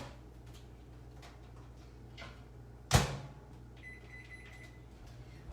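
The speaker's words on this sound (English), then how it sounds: "I'm gonna take this and put it in the microwave" A microwave oven door is opened and food is placed inside, with a single sharp thump of the door as it shuts, followed by a brief high electronic beep from the keypad against a quiet kitchen hum.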